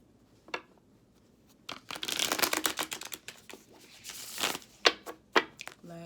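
Tarot cards being shuffled by hand, with a few soft riffles and flutters followed by crisp papery snaps and slaps near the microphone; no one speaks.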